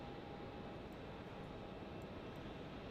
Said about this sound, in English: Let's listen to those engines rumble.